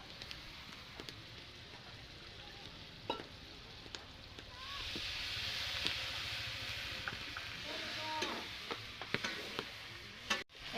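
Spice masala sizzles and crackles steadily in hot oil for a village-style mutton curry, with a ladle scraping and tapping the pan now and then and the frying swelling louder midway.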